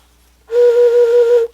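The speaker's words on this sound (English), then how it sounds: "has made a whistle" A clay whistle blown in one steady, clear, bright note lasting about a second, with a slight warble, alone against silence.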